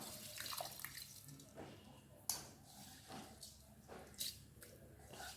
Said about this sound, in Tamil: கழுவி வச்சு அரிசியை சேர்த்துடுறேன்.